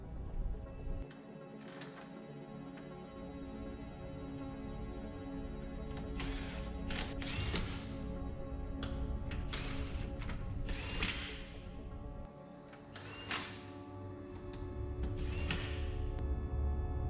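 Ratchet clicking while fastening subframe bolts on a BMW E90 328i, with repeated bursts of rapid pawl clicks and pauses between them, close up over a steady background hum.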